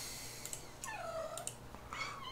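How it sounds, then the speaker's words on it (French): A domestic cat meows faintly in the background indoors, giving several drawn-out, rising-and-falling calls spread across a couple of seconds. "Oh, si vous entendez miauler, c'est mon chat."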